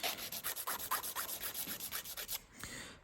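A 240-grit Kanga nail file board rubbed in quick, even back-and-forth strokes, about a dozen close rasping passes, then a brief stop and one softer stroke at the end.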